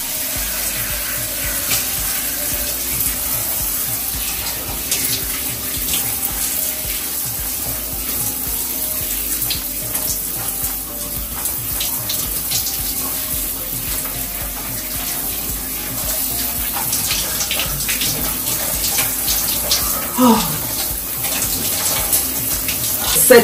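Water from a shower runs steadily while someone rinses off, a continuous close hiss with small splashing changes as the body moves through the spray, filling the whole clip.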